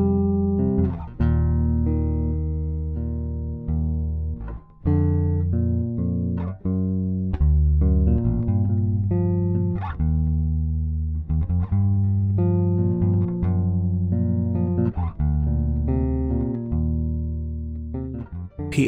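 A bass guitar plays deep sustained notes outlining a track's chord structure, with note changes every second or two and some higher plucked tones, steady and close, with no voices.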